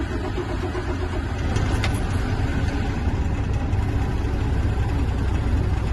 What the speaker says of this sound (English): I'm going to start my truck